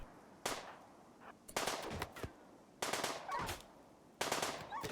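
Bursts of automatic gunfire from colonists hunting wargs in the video game Rimworld, set in an extreme desert, come in four separate volleys of rapid, sharp shots, each lasting about half a second to a second, with quiet gaps between them.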